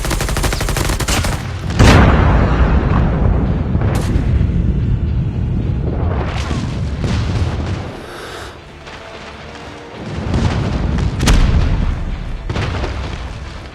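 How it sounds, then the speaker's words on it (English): Heavy airstrike explosions boom in Call of Duty Mobile, a loud barrage of blasts and rumbling detonations rolling one after another, with a brief lull before another burst of impacts. "Friendly airstrike incoming."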